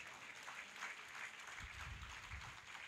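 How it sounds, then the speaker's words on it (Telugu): A church congregation at a Sunday service in Ramagundam claps together, a soft, distant wash of applause that continues steadily throughout. "చప్పట్లు కొట్టు."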